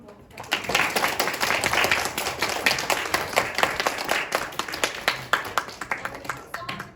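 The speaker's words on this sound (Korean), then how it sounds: "긴 시간 강연 수고해주신 일상의 실천 디자이너분들께 박수 한번 부탁드립니다." A lecture audience applauds the speakers, designers, with dense rapid clapping that holds steady for several seconds at moderate loudness, a little quieter at the start, in an indoor hall.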